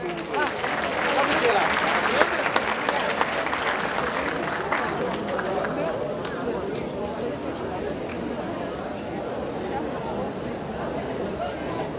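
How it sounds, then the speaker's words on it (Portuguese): Audience applause for Luiz at a therapeutic-community conference session, a steady wash of many hands clapping through most of the clip, with crowd chatter and voices mixed in and fading slightly toward the end. "Uma salva de palmas para o Luiz"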